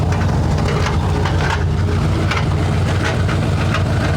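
A Ford F100 pickup runs loud and close. A heavy, rough engine drone carries a gritty grinding churn from a failing transmission.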